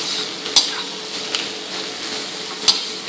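Potato masala for masala dosa cooking in a pan with coriander leaves, stirred now and then; a steady close sizzle with a few sharp clinks of the spoon against the pan, no speech.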